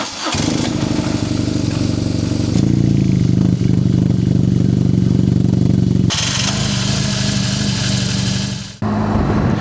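BMW GS motorcycle, an older 18-year-old bike, engine running loud and steady while riding, with low harmonic drone shifting pitch as gears change, alone without speech.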